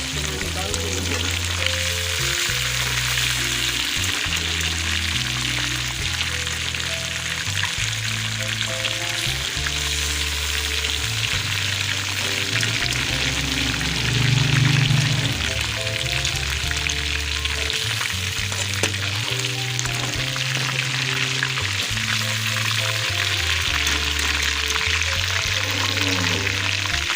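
Chicken pieces fry in hot oil with a steady, dense sizzle that carries on throughout, while background music plays underneath.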